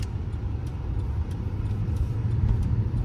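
A 2006 Cadillac DTS rolls along on the road, heard from inside as a low, steady engine and road hum with faint periodic ticking, smooth and even throughout without talk.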